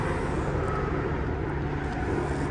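Road traffic near a bridge gives a steady, broad rumble of passing vehicles, moderately distant and continuous, with no talking.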